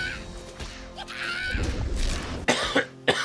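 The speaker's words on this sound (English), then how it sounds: "Sorry for my cough." A sick game commentator coughs several times in short, sharp bursts close to the microphone during a Stormgate match cast, with muffled throat noise between the coughs.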